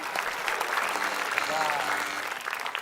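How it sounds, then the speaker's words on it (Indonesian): Applause for a team awarded 100 points in a lively party game, a steady wash of many hands clapping close by, with voices and chatter mixed in throughout. "Kita tepuk tangan"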